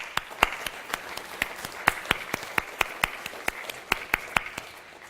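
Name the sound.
audience applause for sponsors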